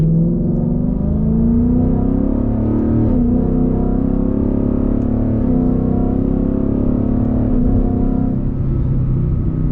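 A Ford Mustang GT in sport mode pulls hard along an open stretch using its paddle shifters, a loud, steady engine drone heard from inside the cabin, rising in pitch with a brief dip around a gear change.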